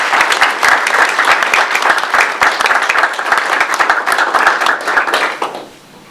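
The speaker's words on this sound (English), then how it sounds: "give them a round of applause" An audience at a naming ceremony gives a round of applause: dense, loud clapping from many hands close by, holding steady for several seconds before tapering off abruptly near the end.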